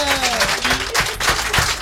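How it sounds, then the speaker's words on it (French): Audience applauding a couple, Luc and Chantal, on a French television variety show, broad steady clapping from a crowd lasting a couple of seconds, filling the room. "On peut les applaudir."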